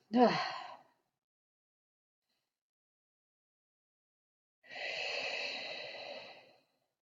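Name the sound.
yawning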